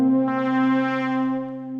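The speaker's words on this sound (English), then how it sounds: "And the pad that I'm using for this is the ARP 2600 slow build." ARP 2600 synthesizer slow-build pad holding a sustained, tonal chord with rich harmonics that swell gently and then ease slightly toward the end, played alone.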